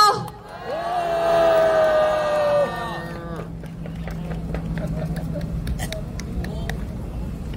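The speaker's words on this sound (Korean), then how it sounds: "박수 부탁드립니다" A sustained tonal sound gives way to an audience at a Korean rally clapping and cheering ahead of a singer's performance, a steady mid-level wash of crowd noise with scattered sharp claps.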